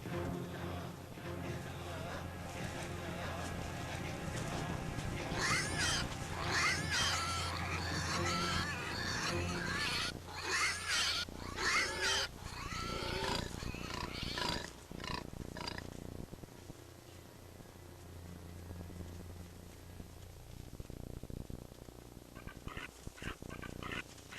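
Wild cheetahs on the African savanna scream and snarl while attacking in tall grass. Harsh, overlapping cries are dense for the first fifteen seconds, then fade to quieter, scattered calls. A voice talks over them.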